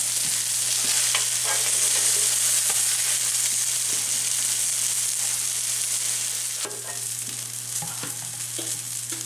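Amish hamburger steaks fry in a pan, a loud, steady close-up sizzle with occasional faint clicks of a utensil, no voices.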